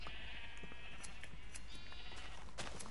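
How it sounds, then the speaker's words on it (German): White sheep bleating in the Minecraft video game, several short bleats scattered over a steady background hum, fairly faint and with no voices. "Dann haben wir einige weiße Schafe, ordentlich welche."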